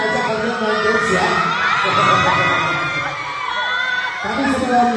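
Cinema audience at a film premiere for Munafik in Malang, loud continuous crowd noise with shouting and cheering, high whoops and voices rising over a dense roar throughout.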